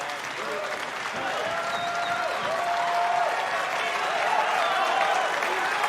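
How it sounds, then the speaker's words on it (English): A Berlin arena crowd at a PFL Europe MMA event applauds a fighter getting back to his feet, sustained clapping and cheering that swells slightly, with voices and whistles mixed in. "Berlin crowd showing their appreciation for Sebastian Santana Guedes getting back to his feet"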